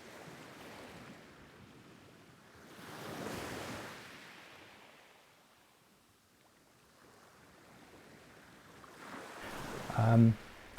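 Ocean waves surge and wash onto a shore on a seascape photography outing, swelling around three seconds in and again near ten seconds, with steady wind noise buffeting the microphone between the breaking sets.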